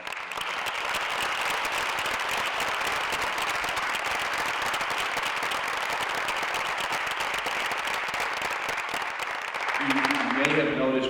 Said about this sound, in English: So please join me in giving one more warm round of applause.